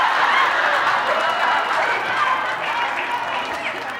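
Audience clapping and laughter at a Southern stand-up comedy show, a steady wash of applause from a crowd filling the room throughout.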